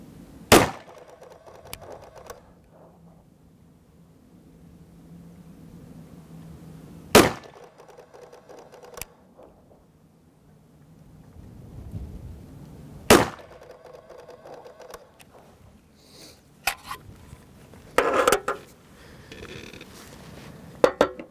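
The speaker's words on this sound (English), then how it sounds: "So let's go ahead and send a few rounds" Several sharp, loud rifle shots ring out at a range, spaced several seconds apart, with quieter handling clatter between them, fired over a Garmin Xero C1 chronograph.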